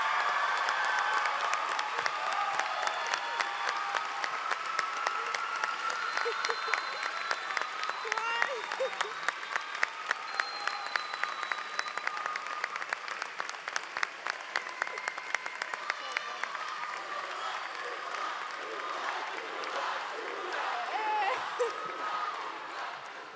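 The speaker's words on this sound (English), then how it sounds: "give this man a standing ovation or an applause" Graduation audience at a 2017 high school ceremony breaks into a standing ovation, dense sustained clapping filling the hall for over twenty seconds with a few louder individual claps and scattered voices underneath.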